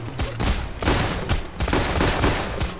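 Magnum shots fired at point blank in Payday The Heist, a rapid cluster of loud, sharp cracks overlapping amid chaotic gunfire from several weapons.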